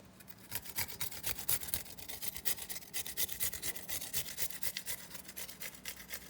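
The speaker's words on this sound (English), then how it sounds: "the ginger, which we'll grate in" Fresh ginger grated for prune chutney, a steady run of quick scraping rasps against a grater, close and fairly quiet with an even rhythm and no talking.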